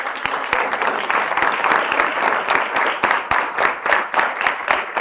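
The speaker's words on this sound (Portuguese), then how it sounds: "tenho que vos pedir um aplauso às pessoas da comunicação" An audience applauds steadily through a talk event, dense and sustained, with individual claps popping out in a loud, even wash.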